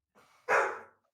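A pet dog barks once, loud and close, after a softer lead-in yelp or whine, in a quiet indoor room with no talking.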